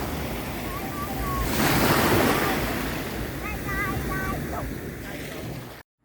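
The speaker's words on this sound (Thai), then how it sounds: "เสียงคลื่นมันสาดมันซัด" Ocean waves wash and crash onto a beach at Suan Son Ban Phe, Rayong, Thailand, in a steady roar, swelling louder midway, with faint bird calls and a voice in the background, in the evening.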